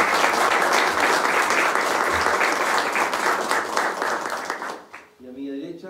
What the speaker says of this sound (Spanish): me gustaría que lo recibiéramos con un aplauso grandote a don Francisco Fuentes.